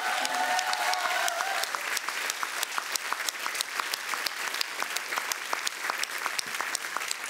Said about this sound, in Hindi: इस बात के लिए हम सब खड़े होकर तालियां बजाएंगे फॉर गुरु